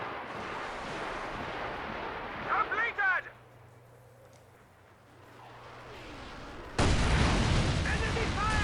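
A Walking Stuka rocket barrage in Company of Heroes 2 fires at maximum range. Rockets whistle in with rising and falling shrieks, then hit with spread-out explosive rumbles, a quieter lull sits in the middle, and a sudden loud burst of impacts follows.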